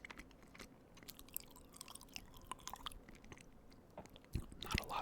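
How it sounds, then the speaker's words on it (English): Close, quiet chewing of a Walmart cream cheese danish, with soft sticky bites and small crunchy clicks in an irregular rhythm, a slightly louder bite near the end, no talking. "not a lot to the chewing sounds for that one."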